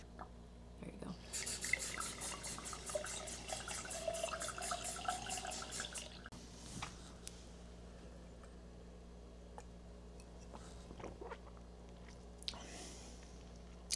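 Park hose water running through a CLM 4 filter into a camper, a quiet spray that hisses for a few seconds and then gives way to faint trickles and small clicks in a still room.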